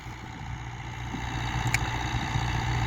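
A Chinese DW 404DC tractor in low gear drives a 1.6 m DTZ rotary tiller through soil while preparing ground for potatoes. The engine drones steadily at mid distance with faint clattering on top, and no voices are heard.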